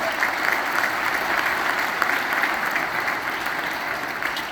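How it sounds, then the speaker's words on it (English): An audience claps for a student at a university band clinic jazz ensemble concert, steady dense applause from a large crowd, continuous and even throughout. "round of applause for Patrick."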